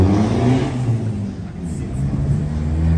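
A Mitsubishi Pajero Shorty set up for touring drives off, its engine rumbling low and steady up close with a slight rise in revs, and voices faintly present underneath.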